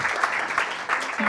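Brief burst of clapping from a small crowd, mixed with murmured voices.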